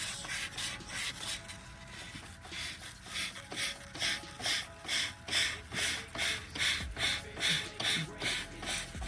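A transmission part from an RB25-swapped 240SX being hand-sanded with 600-grit 3M sandpaper: rhythmic back-and-forth rasping strokes, about two per second, steady and close, growing firmer toward the end, with no talk.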